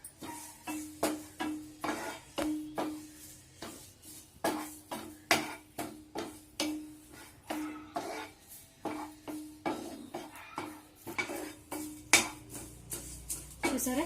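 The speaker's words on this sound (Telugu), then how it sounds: "ఇప్పుడు కొంచెం కరివేపాకు క్రిస్పీగా అయ్యేంత వరకు వేయించుకుందాం" Curry leaves stirred in a pan to fry until crispy for rasam powder, a steady series of close metallic scrapes and clinks from a spoon against the pan, with no voices.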